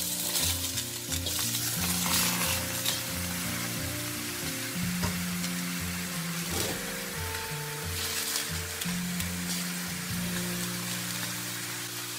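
Shrimp sizzling in a wok over a bed of ginger, a dense, loud, continuous crackling hiss like heavy rain, steady for the whole stretch with no talking.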